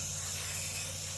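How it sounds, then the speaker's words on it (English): A garden hose sprays water onto a dry compost pile as it is slowly turned, making a soft, steady hiss that fills the short clip. "I'm just kind of turning it slowly and spritzing it with some water"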